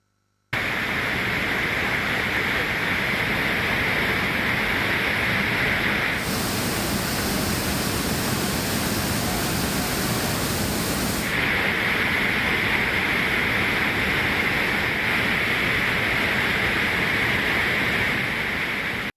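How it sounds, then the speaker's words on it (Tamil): The flooded Kaveri river rushes at Hogenakkal falls in a steady, dense roar of water that stays loud and unbroken throughout, with no voices. "காவிரி ஆற்றில் தொடர்ந்து வெள்ளப்பெருக்கு ஏற்பட்டு வருகிறது"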